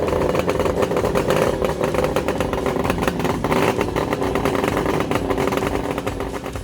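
A 1970s Suzuki GT750 three-cylinder two-stroke motorcycle fitted with expansion chambers revs hard and continuously up close, a loud, raspy, crackling engine note with no talk over it.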